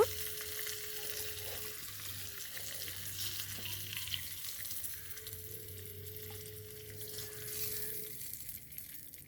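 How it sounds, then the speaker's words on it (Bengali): Gentle sizzling of pointed gourd frying in oil, a soft steady crackle with occasional light stirring and a faint tonal hum in the background. "নাড়াচাড়া করে নিয়ে পটলটা এবার ভাজা হয়ে এসেছে"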